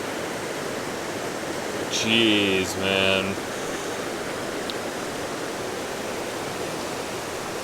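Steady, full roar of mountain stream water rushing over rocks, a broad continuous wash heard up close and unbroken throughout, with a brief spoken remark partway through.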